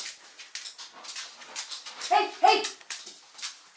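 A puppy whimpers in short, high, thin cries, with two sharper whines close together near the end, while a person speaks briefly nearby.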